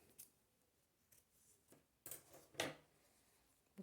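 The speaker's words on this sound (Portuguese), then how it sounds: "Agora, eu vou cortar o fio." Scissors snip through knitting yarn at a craft table, a few sharp close cuts with the loudest near the end, no talk over them.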